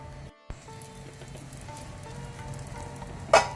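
Jackfruit dosa batter sizzles on a hot pan over medium heat, a soft, steady frying hiss close by with faint crackles, ending with a brief louder burst of spitting.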